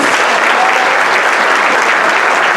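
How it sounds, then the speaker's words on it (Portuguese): Dense, loud applause fills the room from a seminar audience in Jaguariúna, a continuous wash of many hands clapping with no voices on top. "Uma salva de palmas para Jamil Albuquerque, senhoras e senhores"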